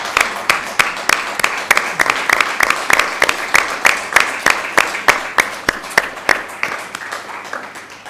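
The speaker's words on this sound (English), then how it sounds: "is it against the rules to give the kids a round of applause?" Audience applause for children at a school board meeting: steady, close clapping with distinct individual claps in a fairly even rhythm that holds for the whole stretch.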